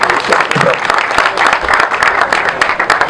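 A crowd at a Congolese political gathering applauds steadily, with a thick wash of clapping and some voices mixed in, loud and sustained throughout.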